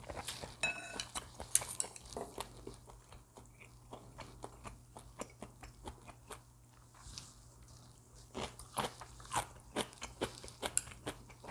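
Someone eats tteokguk, a Korean sliced rice cake soup with beef broth, close up: soft chewing, small crunchy bites and occasional clinks of a spoon or chopsticks against a bowl, quiet and steady, with no talking.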